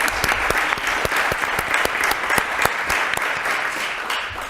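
Steady applause from a crowd at a city council meeting, a dense run of many hands clapping together that stays loud and even throughout with no voices over it.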